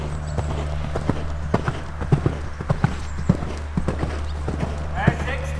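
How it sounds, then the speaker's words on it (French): A horse canters in a riding lesson during a jumping course, its hooves striking the ground in a steady three-beat rhythm of dull thuds over a constant low hum, with occasional snorts and a trainer's voice speaking. "C'est vraiment un super galop."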